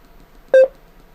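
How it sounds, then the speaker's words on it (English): An Antec AMP SP1 portable Bluetooth speaker gives a single short, loud electronic beep at full volume, clean and close against a quiet background. "It beeps once it's got to full volume."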